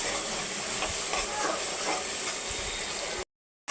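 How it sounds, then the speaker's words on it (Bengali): Hilsa fish fries in hot oil with onions, giving a loud, steady hiss that runs unbroken for about three seconds before cutting off abruptly into silence. "আর এই এলা মাছটা এইভাবে ভেজে নিচ্ছি বন্ধুরা আমি।"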